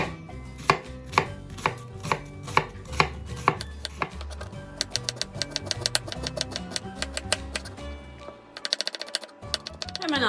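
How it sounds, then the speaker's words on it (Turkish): Rapid knife chopping of an onion on a board, steady sharp taps that speed into a fast, dense rhythm, close and clear. "Ardından hızlıca ince ince doğruyoruz."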